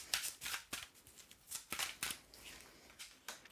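Playing cards are shuffled and pulled from a deck in a quiet room, a run of short riffling bursts and soft flicks coming in irregular rhythm, close and fairly faint.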